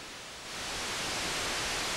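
Steady hiss of broadband noise from a synthesizer's noise generator that swells louder after a moment and then holds, smooth and constant, with no other sounds.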